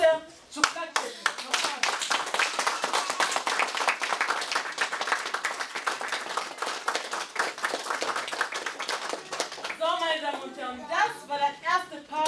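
An audience applauds together in a dense, steady burst for about ten seconds before the clapping thins and a voice begins talking over the last claps.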